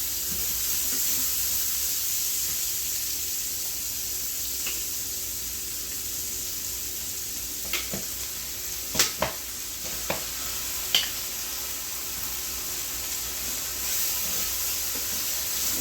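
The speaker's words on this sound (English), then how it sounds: "We're gonna let that cook for about 2 minutes." Chicken adobo sizzles over medium heat in a pan with a steady frying hiss, while a few sharp scraping clinks of stirring break through in a cluster near the middle.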